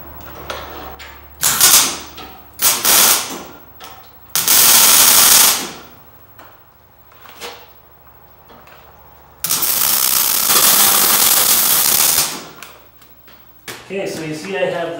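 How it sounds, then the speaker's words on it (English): Welding bungs onto a homemade submarine ballast tank, heard as several loud bursts of hissing, crackling arc noise separated by quieter gaps, with mechanical clanks between them. "now I can weld in these bungs"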